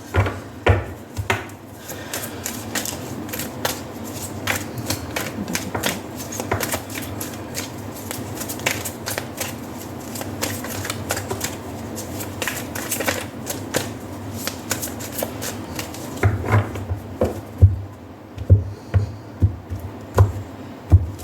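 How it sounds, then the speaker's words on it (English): Tarot cards are shuffled continuously with a dense stream of close, crisp riffling and flicking, and occasional louder taps and knocks of the deck being squared toward the end. "if you're interested in watching the shuffling, I'm going to begin now."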